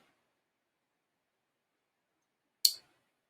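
A single sharp computer mouse click, crisp and close, in otherwise near silence.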